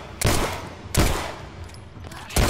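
Three loud, close gunshot blasts spaced about a second apart, each with a short decaying tail, from gunfire in The Last of Us: Left Behind.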